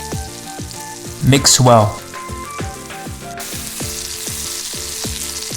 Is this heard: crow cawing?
no